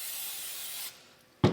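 A paper towel wipes down a gelatin mold in a short, close, dry rubbing hiss, then a pause and one sharp brushing scrape at the end.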